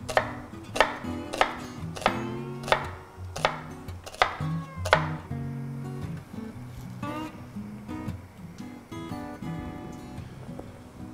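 Rapid, evenly spaced knife strokes slice an onion into thin rounds on a cutting board, each cut a sharp crisp tap, close and clear, growing denser and softer toward the end.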